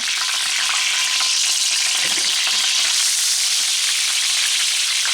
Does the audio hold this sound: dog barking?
no